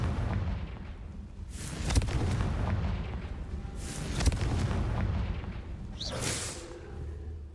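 Confringo spells detonate in Hogwarts Legacy, a few heavy booming blasts with whooshing tails, rolling one after another over a dense rumbling backdrop.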